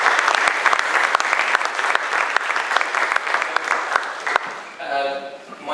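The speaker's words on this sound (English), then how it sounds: "they deserve a round of applause" An audience at a charity law seminar in Toronto breaks into steady, full applause for several seconds, fading as a speaker begins talking near the end.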